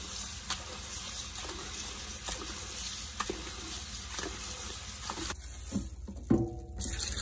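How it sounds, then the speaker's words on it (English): Warm tap water running over cooked low-carb noodles for a red curry noodle soup, a steady splashing stream that cuts off abruptly near the end, followed by a few brief clatters and drips. "Rinse the noodles under warm water."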